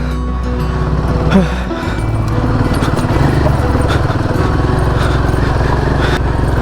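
A motorbike labouring along a rough rural road in Konkan, its engine droning steadily and close throughout with a rhythmic throb, no speech heard over it.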